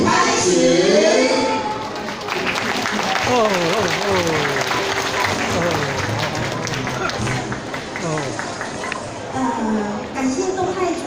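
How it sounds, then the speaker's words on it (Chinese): A hall audience applauds at a scripture-recitation exam event in a Tainan temple, a dense clapping wash running throughout, while a voice speaks over it and crowd murmur rises and falls. "那我们再一次以热烈的掌声来感恩他们"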